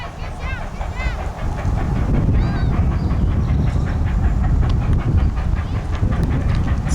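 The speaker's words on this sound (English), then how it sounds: "Looks like the train's coming on the other side here." A steam locomotive train passes under a road bridge in Ashtabula County, Ohio, with a loud, continuous rolling rumble. Bright whistle blasts sound early on.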